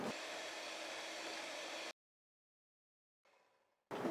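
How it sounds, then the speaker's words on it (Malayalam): An electric mixer beats room-temperature unsalted butter for buttercream, a steady close whirring for about two seconds that cuts to silence, then a faint brief rattle before the motor starts up loudly again. "ആദ്യമേ ബട്ടർ ഒന്ന് ബീറ്റ് ചെയ്യുക"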